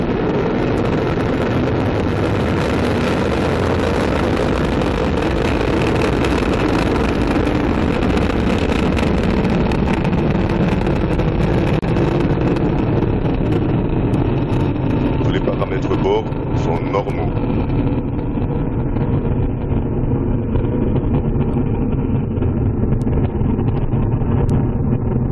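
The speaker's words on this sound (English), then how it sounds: "We had ignition, you saw it, Ariane 5 beginning her mission, rising off the ground here in French Guiana with a lot of fire" An Ariane 5 rocket ignites and lifts off in French Guiana. A massive, sustained roar with buffeting wind rumbles continuously, loud and distant, and slowly dulls as it climbs, while a voice speaks at times.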